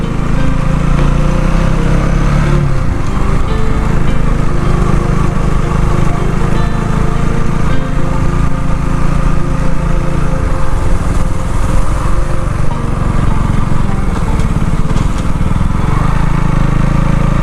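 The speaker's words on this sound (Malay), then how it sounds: "Ini motor Duke pun gear 1 geng." A loud KTM Duke motorcycle engine labors steadily in first gear up a sandy, rain-wet hill, a continuous rough drone with slight swells as it climbs.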